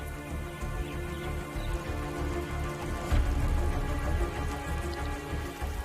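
Monsoon rain falls in Sri Lanka: a steady, dense wash of droplets hitting surfaces, loud and continuous throughout, with a slight swell partway through.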